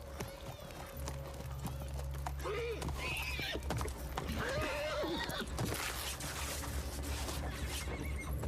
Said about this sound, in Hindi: इनका घोड़ा ले आओ।